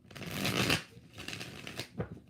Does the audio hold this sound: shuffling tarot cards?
yes